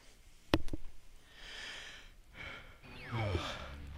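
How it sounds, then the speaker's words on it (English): A person yawning close to the microphone, with a sharp click, then a long breathy inhale and a drawn-out exhale ending in a faint voiced sigh. "Excuse me for yawning"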